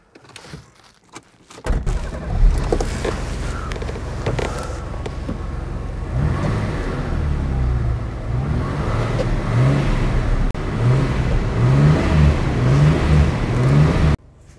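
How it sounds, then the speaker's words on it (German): A 1976 Mercedes 280 SLC engine cranks briefly after a quiet moment, catches and settles into a steady, close idle with a rhythmic low throb, running alone until it is shut off at the end. "Ich starte jetzt mal den Motor und zeige euch mal den Lauf, wie die läuft, so eine Maschine"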